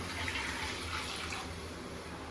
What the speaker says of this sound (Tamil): ஸோ இப்போ வந்து 1 கப் தண்ணி ஊற்றிருக்கேன் நான்.